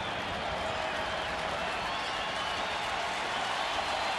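A sold-out baseball crowd at a Mets versus Phillies game rises to its feet, clapping and cheering in a dense, continuous wash of applause at moderate distance.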